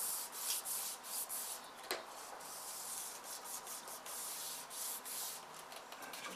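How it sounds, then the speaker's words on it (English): Paper is rubbed down along its edges to form a crease while a wall is built around a model railway turntable yard, a close continuous rasping friction with quick repeated strokes and no talking. "Just rub it down the edges, it gives a nice crease mark"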